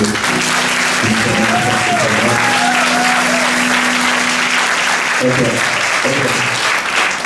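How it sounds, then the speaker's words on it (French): A church congregation applauds and cheers for the preacher at a prophetic worship gathering, loud and sustained throughout, with tonal voices or music sounding beneath the clapping. "j'aimerais qu'on acclame le Seigneur pour l'homme de Dieu"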